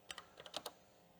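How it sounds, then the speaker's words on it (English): Quick, faint keystrokes on the keyboard of a rare 80286-era Bosch Rexroth PG4 industrial PLC computer, about seven soft clicks in a short burst followed by quiet. "Let's just type"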